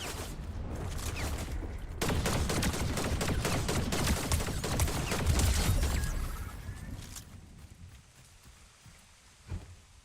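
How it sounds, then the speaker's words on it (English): Fortnite video game gunfire, with rapid loud shots and bursts of clatter for several seconds that fade to quieter game ambience and a single late pop. "Somebody shooting at me."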